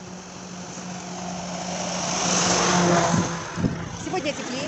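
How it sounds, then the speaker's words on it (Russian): A school bus drives past on a street by a crosswalk, its broad rushing engine and tire noise swelling to a peak midway, then fading under a low steady hum and scattered street sounds. "сейчас пропустим школьный автобус."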